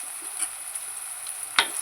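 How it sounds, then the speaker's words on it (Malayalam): Spices with Kashmiri chilli powder, garam masala and coriander powder sauté with soya chunks in a pan, a soft steady sizzle with a few light stirring taps and one sharper clink near the end. "നന്നായിട്ടൊന്ന് വഴറ്റിയെടുക്കണം."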